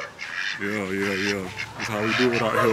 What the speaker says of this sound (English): Got the little ducks.